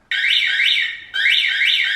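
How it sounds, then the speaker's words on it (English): An alarm inside a workshop unit sounds loud and close, a warbling electronic siren sweeping up and down in two bursts separated by a short dip, with no voices. "Pretty good alarm, isn't it? It goes off all the time."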